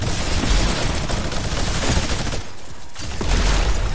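Dense, continuous gunfire in the video game Fortnite, a sustained barrage of rapid shots and booms, loud and close with a brief lull partway through, no talking.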